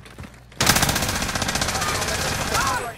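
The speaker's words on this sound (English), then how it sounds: "Receiving hostile fire." Rapid automatic gunfire in a video game shooter bursts in loudly after a moment of quieter background, a dense, sustained stream of close shots with a voice heard briefly before.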